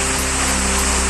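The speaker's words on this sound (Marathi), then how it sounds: "सिंधुदुर्गात आज पुन्हा पावसाची हजेरी." Unseasonal rain falling steadily in Sindhudurg, a dense even hiss of drops on surfaces with no pauses or voices, fairly loud and close throughout.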